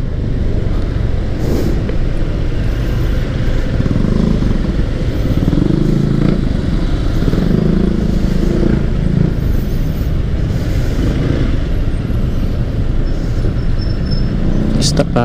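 Motorcycles filtering through congested road traffic, a steady loud mix of engines, passing vehicles and clatter with a brief air-brake hiss, and a rider talking over the din.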